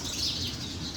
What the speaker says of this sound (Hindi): ये देखें ये चिड़ियाँ कितनी खूबसूरत चिड़ियाँ भाई